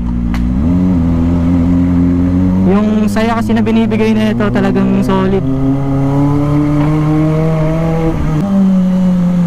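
A Kawasaki ZX25R inline-four motorcycle engine drones steadily, with a burst of sharp revving in the middle before settling back, heard under someone talking throughout.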